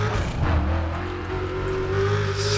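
A car engine in the Need for Speed: Undercover racing game revs steadily during a police chase, a sustained close whirring drone with a slowly rising pitch, no talking.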